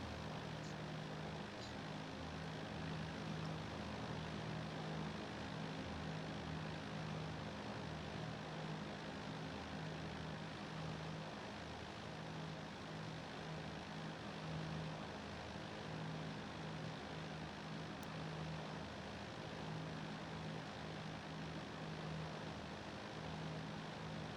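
Twin piston engines and propellers of a BN-2A Islander in the X-Plane 12 flight simulator, on approach to Honiara International Airport in the Solomon Islands, give a steady, loud drone with a pulsing low hum that runs unbroken throughout.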